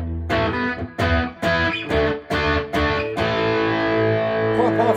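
Gibson Baldwin Les Paul electric guitar through its bridge pickup with heavy distortion, loud strummed chords struck in a rhythmic series of sharp attacks, then one sustained ringing chord left to hold.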